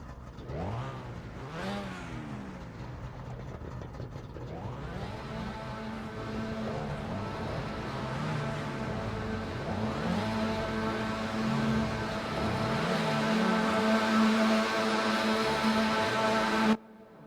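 A field of Trabant 601 RS race cars pulling away at Hockenheimring in an online racing game, small engines revving and rising in pitch through repeated gear changes, the droning swelling louder as the pack moves off, then cutting out abruptly.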